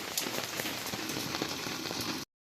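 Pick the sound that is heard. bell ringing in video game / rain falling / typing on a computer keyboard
rain falling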